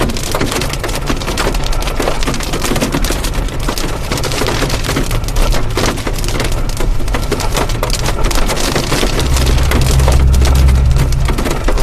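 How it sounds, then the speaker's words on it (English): Dense hail drumming on a storm chaser's vehicle during a severe thunderstorm, a steady loud clatter of countless impacts on metal and glass throughout, close and unbroken. "we're getting so much hail right here"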